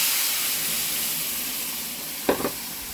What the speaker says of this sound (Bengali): এইবারে এই সবজি দেওয়া ডালটা এতে ঢেলে দিচ্ছি